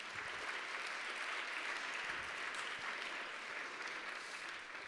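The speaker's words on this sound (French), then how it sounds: "Christian Vanier, sous vos applaudissements, s'il vous plaît." A conference audience at a colloquium on cities and climate change gives a sustained round of applause, a steady, evenly spread wash of many hands clapping with no speech over it.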